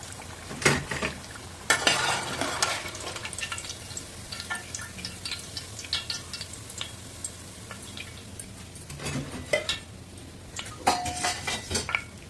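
Crispy chana dal flour snacks deep-fry in hot oil with a soft, continuous sizzle, while a metal spoon clinks and scrapes against the pan at irregular moments close by.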